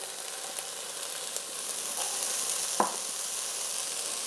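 Chili with beans simmering in a six-quart Dutch oven, a constant sizzling hiss with faint scraping stir strokes and one brief clack of the spoon.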